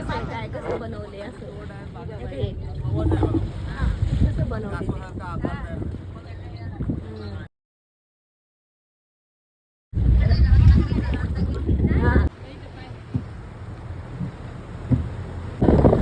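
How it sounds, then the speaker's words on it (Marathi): Sea water rushes and churns around a boat off the Malvan coast, mixed with steady wind buffeting the microphone and voices talking over it; the noise cuts out briefly midway, then returns louder. "पाण्याचा जो आवाज आहे तो तुम्ही नक्की फील करू शकता."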